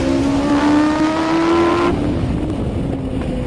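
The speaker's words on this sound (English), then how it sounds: "it's barking a 500 horsepower V8" A loud, close Noble M600 sports car's 500 horsepower V8 engine revving high and then dropping in pitch, a sustained aggressive roar.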